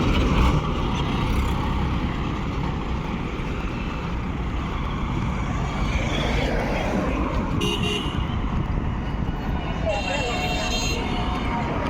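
Traffic rumbles on a Bangladeshi highway backed up in a jam after days of rain, a constant loud wash of engines and road noise with occasional horn toots.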